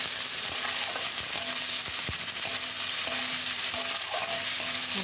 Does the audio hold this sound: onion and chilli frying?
yes